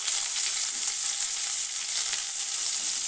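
Chopped ginger and green chillies frying in hot oil in a pan for chicken, a dense, continuous bright sizzle, loud and close throughout with no talking.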